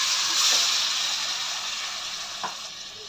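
Onion paste frying in oil, a soft steady hiss and sizzle close by, with a couple of faint stirring knocks and no talking.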